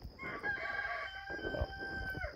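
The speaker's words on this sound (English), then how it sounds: "Rooster's telling me it's time to get up." A rooster crows once in a long, drawn-out call lasting about two seconds, clear and fairly close, at an outdoor campsite during a tent test at dawn, with no talking.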